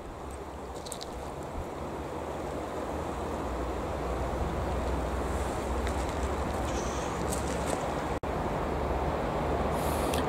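Strong wind roars continuously against the microphone, a loud broadband rumble with faint higher whistles; no voices.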